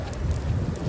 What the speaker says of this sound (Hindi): अभी हवा तेज़ हवा शुरू हो गई है, बारिश भी थोड़ी तेज़ हो गई।